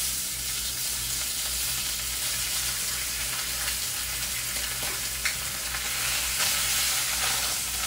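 Snapper fish frying in a hot pan for a Haitian dish, giving a steady, dense sizzle that holds loud and even throughout with a few small crackling pops, no voices.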